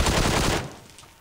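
A QBZ rifle firing a fast close-range burst in PUBG Mobile on the Sanhok map, loud and dense for about half a second and then ending abruptly, leaving a fading tail.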